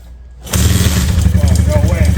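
Suzuki LT230S ATV engine catches on a single kick with the choke on, jumping from near silence to a loud, close, steady chugging idle. No one talks.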